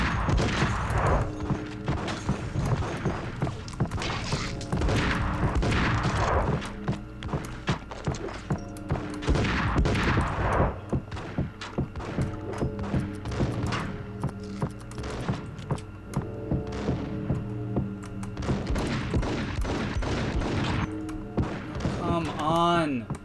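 Gunfire from the video game Max Payne comes in dense, rapid bursts of shots and impacts, layered with busy game sounds and music. A voice talks over the action at times.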